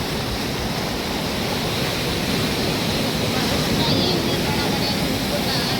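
Sea waves wash onto a beach in a continuous, loud, broad roar of surf that stays steady throughout.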